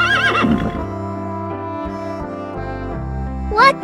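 A horse neighs loudly and close, a long whinny with shaking pitch that rises at the start and again near the end, with no talk over it.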